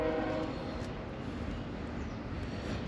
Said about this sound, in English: Excuse the train in the background.